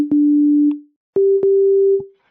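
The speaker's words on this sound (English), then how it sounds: "And you can hear one sine wave." A single pure sine wave from a synthesizer oscillator, running unfiltered straight to the output. It plays as two steady, clean tones, the second slightly higher, with soft clicks where each starts and stops.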